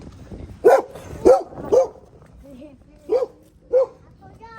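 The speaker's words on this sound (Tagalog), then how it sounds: "Labrador." A Labrador dog at a zoo barks five times in short, moderately loud woofs, three in quick succession and then two more after a pause, with faint background voices.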